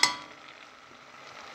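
A spoon scrapes and stirs flour into melted butter in a pan for béchamel, a quick clatter at the start giving way to a soft steady sizzle and gentle scraping.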